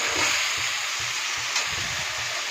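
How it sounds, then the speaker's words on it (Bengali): Spice masala for Kashmiri aloo dum fries in oil, producing a dense, loud, continuous sizzle with a low rhythmic scrape as it is stirred repeatedly in the pan. "এটা ভালো করে মশলাটাকে কষাতে হবে যতক্ষণ না তেল বেরিয়ে আসে"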